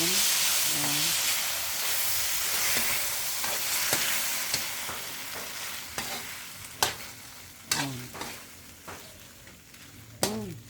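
Sweet and sour chicken in tomato sauce being stirred in a sizzling pan, steady frying hiss with scraping strokes and sharp utensil clinks growing more frequent toward the end, close and moderately loud, with occasional brief voice sounds.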